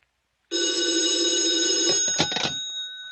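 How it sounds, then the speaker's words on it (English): Telephone bell ringing in an old time radio drama, one long continuous electric ring that cuts off with a clatter as the receiver is picked up, loud and alone. "if the phone rings, I'll answer it because it'll be for me"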